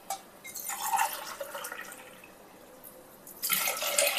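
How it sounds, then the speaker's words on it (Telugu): Water poured into a pan for kara bath, a steady splashing pour with a brief quieter stretch in the middle before it grows louder again near the end, close and without talk. "3 గ్లాసు వాటర్ పోసుకుందాం"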